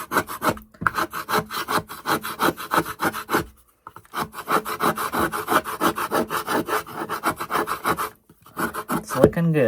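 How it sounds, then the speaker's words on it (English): A putty knife scrapes dried putty off a piece of scrap wood in a rapid series of short, rasping strokes. Two brief pauses break the steady scraping. "I'm going to get my putty knife here and scrape some of it off"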